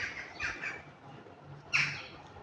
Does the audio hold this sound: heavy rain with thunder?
no